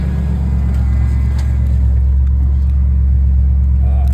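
A 1996 Ford F350 XLT crew cab 4x4 truck engine turns over in a brief rough burst and then settles into a loud, steady, close-up idle rumble.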